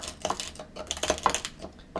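Salt being crushed in a bowl with the back of a spoon, a quick series of close, gritty clicks and scrapes against the bowl in an irregular rhythm.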